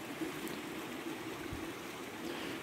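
A small stream flowing near a water source, a steady soft trickle and babble that stays faint and continuous throughout.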